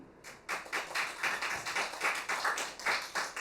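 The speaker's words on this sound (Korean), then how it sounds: "정말 열정적인 강연에 대한 답으로 여러분들의 뜨거운 박수 부탁드리겠습니다" An audience at a traditional Korean music gathering claps after a lecture: fairly faint, evenly paced claps in a steady rhythm, sounding like a modest group in a quiet hall.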